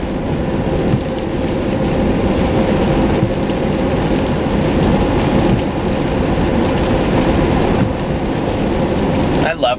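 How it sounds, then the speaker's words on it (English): Heavy spring rain pours steadily in Indiana, a dense loud hiss on surfaces with low rumbling thunder rolling underneath throughout, continuous and close. "Spring in Indiana is lots and lots of rain."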